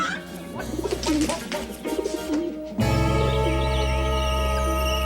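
Pigeons or doves coo, with soft rounded calls over a busy background in the first half, then a louder, denser stretch of overlapping bird calls and chirps.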